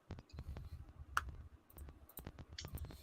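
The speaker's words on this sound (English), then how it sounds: "He's typing a question." Someone types on a computer keyboard during a college football fantasy sports discussion, a steady run of light, close clicks and key taps with brief pauses, one sharper tap standing out midway.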